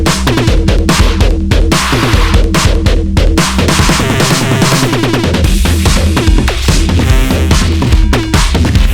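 An electronic drum kit triggers a drum synth with EQ, feedback and glitchy effects mapped to macros, giving dense, loud, rapid stuttering hits and distorted tones that run continuously without any talking.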